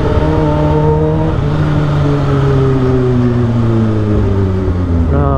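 Supercharged Kawasaki Ninja H2 motorcycle engine held loud and close, its steady drone easing slightly lower through the middle before a brief rise in revs at the end.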